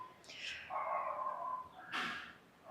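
A dog nearby lets out a drawn-out, high whining yelp, then a second sharp yelp after a short pause.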